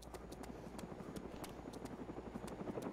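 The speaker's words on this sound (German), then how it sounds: "Ich höre einen Heli." Helicopter in the video game DayZ, its rotor chopping in a steady rapid beat with a low engine drone, fairly faint as though passing at some distance.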